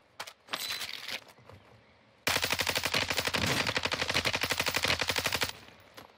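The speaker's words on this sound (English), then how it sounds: "They're getting shot at from a different area." Gunfire in Call of Duty Warzone 2: a few scattered shots at first, then a long, rapid burst of automatic fire, sharp and loud, with no talking.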